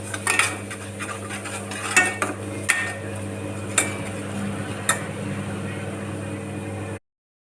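Spoon clinks and scrapes against a pan while a chilli bread mixture with salt is sautéed, with a few sharp metallic taps over a steady low hum and faint sizzle.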